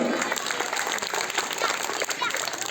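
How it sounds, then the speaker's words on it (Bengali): An audience at a school function applauds the guests, a steady, full round of clapping with crowd murmur mixed in, sustained and fairly loud across the whole moment. "আমরা সবার জন্য একটা করতালি দেই"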